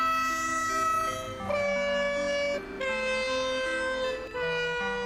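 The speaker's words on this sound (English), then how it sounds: "Oh, the train horns from the Prague main railway station." Train horns at Prague main railway station blare in a slow, sustained melody resembling a creepy version of Canon in D, the loud tonal chords shifting pitch every second or so with brief dips between them.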